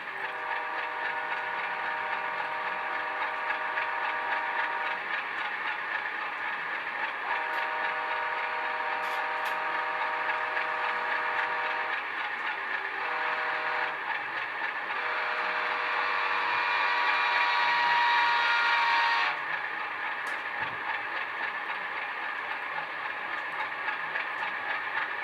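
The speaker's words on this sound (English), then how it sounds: "Five is the Doppler horn." Doppler horn effect from a Rapido CN model train sound decoder: a sustained multi-chime locomotive horn sounding steadily for nearly twenty seconds, pitch shifting partway through, then cutting off abruptly to a low hum.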